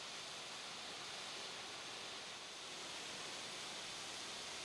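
Water pouring steadily at a frozen waterfall, an ice drapery about twenty feet across at Clifty Falls State Park, Indiana, dropping into an icy pool; a continuous broadband rush with no breaks and no voices.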